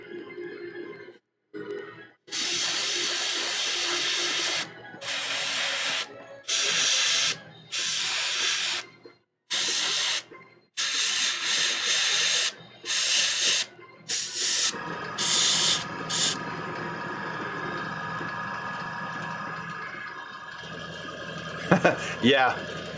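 An airbrush sprays paint onto a Games Workshop Warhammer 40K Magnus the Red model in a series of close, hissing bursts of a second or so, separated by short pauses. Later the hiss turns steadier and softer beneath someone talking.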